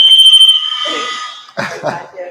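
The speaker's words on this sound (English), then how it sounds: "the alarm is having some kind of malfunction" A malfunctioning fire alarm blares with a loud, pulsing high electronic tone that cuts off partway through, followed by people talking and chuckling.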